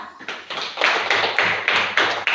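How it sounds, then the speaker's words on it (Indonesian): Classroom applause from students during a lesson on story characters: loud, rhythmic group clapping in steady, evenly spaced bursts about twice a second, with no talking. "tepuk tangan untuk Alfa."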